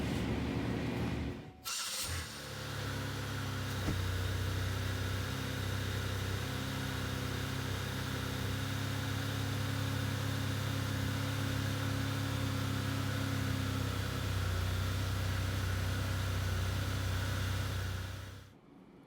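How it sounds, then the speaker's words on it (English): A 2005 Chevy Impala 3.8L engine cranks and catches, then settles into a steady, loud idle that drones on for a long stretch before cutting off. "now I'm going to start the vehicle and I'm going to check for leaks"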